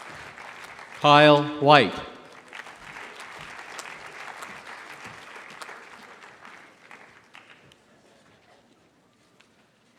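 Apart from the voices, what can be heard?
applause at commencement ceremony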